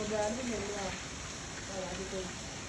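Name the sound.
rain falling on a village rooftop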